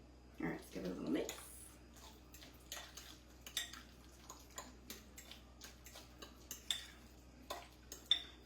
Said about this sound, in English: let's give it a little mix